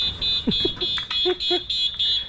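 An electronic alarm beeps in rapid, evenly spaced high-pitched pulses, loud and close, while someone talks over it.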